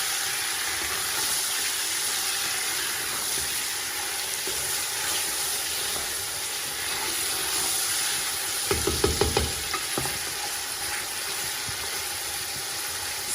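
Meat in big pieces sizzling in a pan for Kabuli Pulao, a steady close fry hiss with a brief burst of louder clatter near the end.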